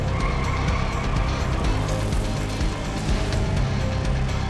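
Stock cars racing around an oval track, a dense, steady roar of engines with tire noise, loud and continuous from trackside with no clear gaps.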